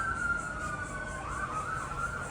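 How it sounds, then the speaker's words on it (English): A steady wailing siren tone holds throughout, rising and wavering slightly, heard at moderate distance over a low background rumble. "Here comes the sirens."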